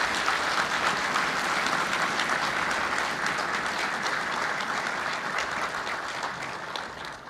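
A large audience at a combined army, navy and air force academy commissioning ceremony for 558 new officers gives loud, sustained applause that rolls on evenly and then eases slightly, with no talking over it.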